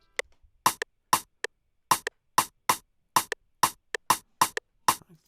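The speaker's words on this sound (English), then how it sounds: "move on to the snare. Snare's pretty basic too. I have it in a pattern like this." A crisp snare drum in a chill siren jam plays a syncopated pattern of sharp, bright cracks, some in quick pairs, evenly spaced over a steady groove, close and dry with no other sounds.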